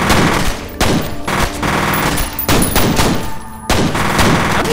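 Gunfire in the video game F.E.A.R. comes as loud, repeated bursts of shots in quick succession, separated by short pauses and filling the whole stretch.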